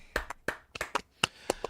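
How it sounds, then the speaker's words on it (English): A single person claps a short, uneven round of about eight sharp hand claps, close and crisp with quiet gaps between them and no voices. "round of applause"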